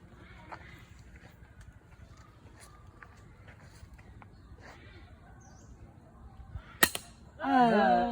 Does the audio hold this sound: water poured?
no